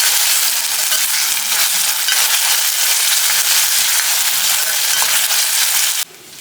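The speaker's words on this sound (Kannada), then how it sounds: "ಸ್ವಲ್ಪ 1-2 ನಿಮಿಷ ಇದನ್ನು ಹುರ್ಕೊಳ್ಳೋಣ" Ginger garlic paste sizzles and fries with softened onions in a pan, a steady close hiss with faint stirring scrapes throughout, dropping away sharply near the end.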